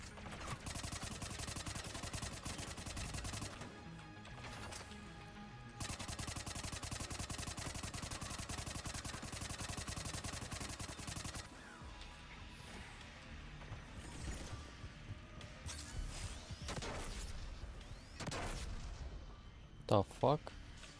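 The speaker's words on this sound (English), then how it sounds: "Was it her shooting the shotgun?" Shotgun fire and combat noise from the video game Mass Effect 3: a dense, continuous clatter of gunfire with a few sharper blasts near the end, and voices talking over it.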